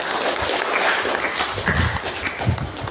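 Audience at a school motivational gathering and group prayer event applauding together, a dense steady patter of clapping heard at moderate distance for the whole stretch.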